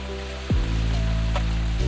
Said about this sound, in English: the light indicator will start flashing and the toilet will perform a short rinse cycle